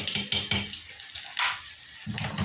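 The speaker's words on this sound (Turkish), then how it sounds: "Evet böyle ara ara hafiften karıştırıyorum." Döner meat frying in a home pan, its steady sizzle broken by a few scraping, clattering stirs near the mic, with no talk.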